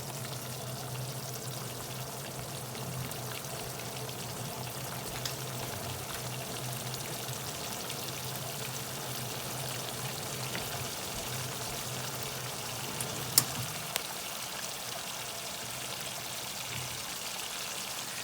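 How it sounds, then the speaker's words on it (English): Water poured into a pan of simmering fish curry on a home stove, a steady soft pouring and bubbling sound running continuously at moderate volume, with no talking. "So I'm going to add the water now."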